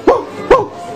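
Two short, close yapping barks from a dog, evenly spaced about half a second apart, standing alone without talk.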